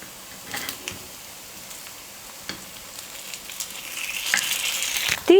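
Rava kuzhi paniyaram fry in a paniyaram pan on a medium flame with a soft, steady sizzle, broken by a few light scrapes and clicks as the sizzling swells near the end.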